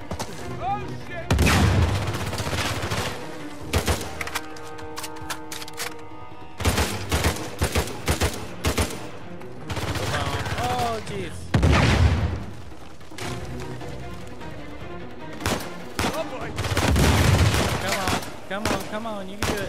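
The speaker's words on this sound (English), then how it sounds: "I keep shooting him in the head, but it's not even getting rid of his armor" Repeated bursts of gunfire from Uncharted 4, including shotgun blasts, come in loud clustered volleys separated by short pauses, with spoken voice mixed in between the shots.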